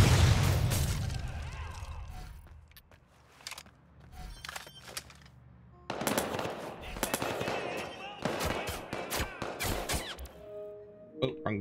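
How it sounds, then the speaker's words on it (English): Paintball assault rifle in Watch Dogs 2 firing in rapid bursts of sharp cracks, loud up close, broken by pauses and mixed with explosions and other game noise. "The assault rifle is a paintball gun."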